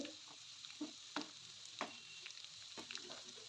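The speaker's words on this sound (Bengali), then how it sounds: "এবার একটু কড়া করে ভাজব" Chicken pakora fried a second time in hot oil until crisp, a steady close sizzle with occasional soft stirring taps and bubbling bursts, fairly quiet and without voices.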